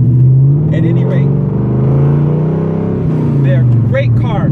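The engine of a 1999 Ford Mustang Cobra with a two-valve V8 revs and pulls close and loud, its pitch sweeping up, dipping and climbing again, with brief high whines at the peaks.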